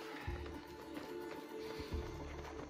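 Horse hooves clip-clop in Assassin's Creed Odyssey, a few steady thudding steps close up, heard over continuous game music and ambience.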